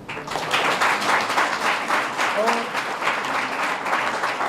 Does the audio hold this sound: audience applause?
yes